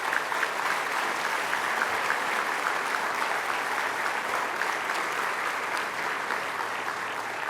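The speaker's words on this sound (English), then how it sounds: "I just want to ask that we applaud all the people who played any role in creating this" An audience claps at the Nappi Wellness Center ribbon cutting ceremony in Syracuse. The applause is a dense, steady roar of many hands that holds evenly at full strength throughout.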